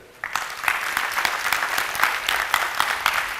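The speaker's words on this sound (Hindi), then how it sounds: "तालियां जोरदार।" After a lecture on a philosophical system, the audience breaks into vigorous applause that starts abruptly and carries on as a steady, crisp crowd of clapping hands without talk.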